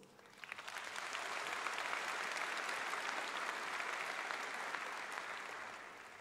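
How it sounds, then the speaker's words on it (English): Applause in a university hall at a University of Pretoria welcome day builds quickly from scattered claps into a broad, sustained round, heard from a distance at a modest level, then gradually tapers off. "Parents, I think that your children deserve a round of applause"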